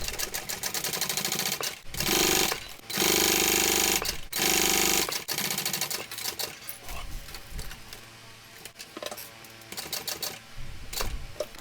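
A sewing machine stitches vinyl for a shoulder bag in loud rapid bursts separated by short pauses, with quieter stop-start runs and clicks toward the end.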